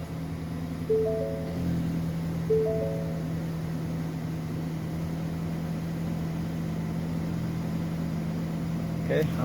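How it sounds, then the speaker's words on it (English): A Ford Escape engine with a stuck spark plug catches and settles into a steady, low idle hum that carries on unchanged, close and moderately loud, with faint shuffling noises over it. "Okay, I'm going to let it idle and stabilize."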